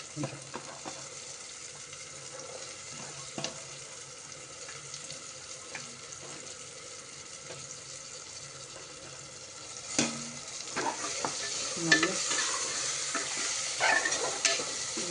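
Shelled green peas stirred and fried in a pan, a low steady sizzle with occasional scraping stir strokes that grow louder and busier toward the end, heard alone without talk.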